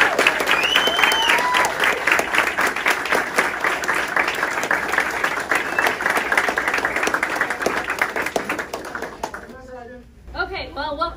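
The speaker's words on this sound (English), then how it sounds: "Let's give her a round of applause." An audience applauds warmly at an army promotion ceremony, with sustained clapping for about nine seconds and a few cheers mixed in. Talk follows as the applause dies away.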